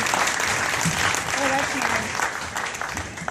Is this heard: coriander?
no